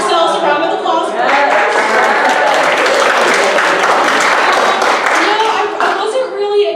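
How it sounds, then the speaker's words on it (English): Audience applause at an awards ceremony fills the room, sustained dense clapping throughout with a crowd voice audible underneath. "just give all yourselves a round of applause"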